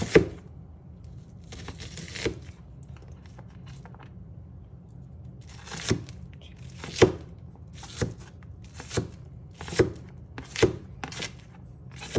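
Knife chopping onion and other vegetables for turkey stuffing on a board, isolated crisp chops spaced irregularly, close and fairly quiet, with faint background hiss between strokes.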